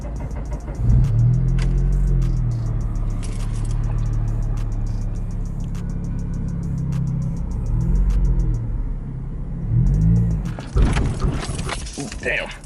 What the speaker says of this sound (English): Slowly release the clutch and give it some gas.